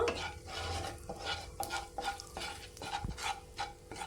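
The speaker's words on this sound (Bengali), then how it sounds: "এবার আমি তেলের মধ্যে দিয়ে দেব একটা তেজপাতা আর দুটো এলাচ আর গোটা জিরে একটু হালকা করে ভেজে নেব" A bay leaf, two cardamom pods and whole cumin fry lightly in oil, a soft sizzle under frequent rhythmic scraping strokes of a spatula against the pan, fairly quiet and close.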